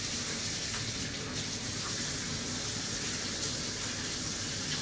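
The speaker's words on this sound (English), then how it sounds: "All right, wash your damn hands." Water running steadily from a tap during handwashing, a continuous broadband rush that stays close and even for the whole stretch, with no voices over it.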